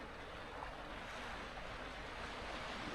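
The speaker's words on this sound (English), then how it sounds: "It's just so relaxing, just standing here, listening to the water." Steady broadband wash of sea water at a pebble beach in Almuñécar, heard up close with no distinct separate wave breaks and no voices.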